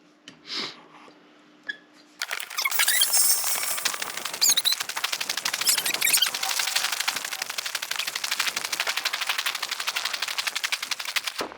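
Five sharp gunshots from a rifle fired at a paper target on a shooting range, rapid and evenly spaced with echoing tails, loud and close, following a brief quiet stretch with faint shuffling.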